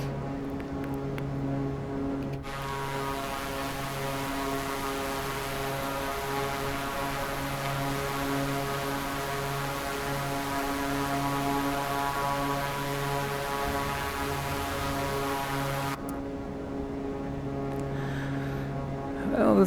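Engines of a Dornier Seastar amphibian in a flight simulator, a steady droning hum with strong tonal harmonics that switches on abruptly, holds constant for about thirteen seconds, then cuts off.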